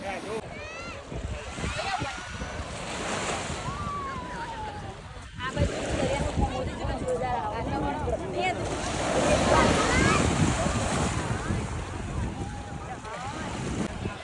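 Sea waves wash onto Somnath beach with wind buffeting the microphone, a steady surf roar that swells and recedes beneath lively, close conversation and a voice throughout.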